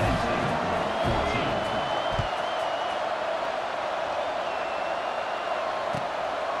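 Stadium crowd noise from the College Football 26 video game, a steady, dense roar of fans across the whole stretch as a kickoff approaches, with a couple of brief thumps, no clear spoken words.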